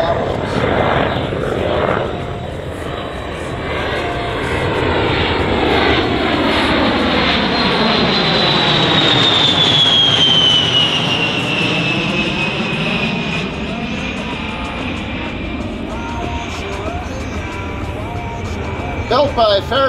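USAF A-10 Thunderbolt II, a Fairchild Republic jet powered by two General Electric turbofans, passing at an airshow in London: a loud, sustained engine roar with a pronounced whine that rises and then sweeps downward as the jet goes by.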